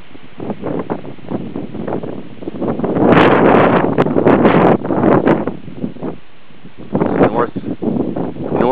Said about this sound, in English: Northerly wind, because the hurricane goes in a counterclockwise direction.